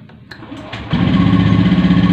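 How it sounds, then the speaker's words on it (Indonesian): A Honda Beat fuel-injected scooter engine, one with a smooth-starter (ESP) that stalls while riding and lights the MIL lamp, catches and revs up to a steady buzzing, throbbing idle close by after a few faint clicks. "Mas tolong diripi motor sepisan nih Mas"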